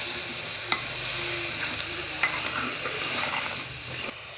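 Mushrooms being stirred with masala in a pan for a capsicum curry, a steady sizzle with scraping strokes of the spoon against the metal, a few sharper knocks standing out, close and continuous with no voices.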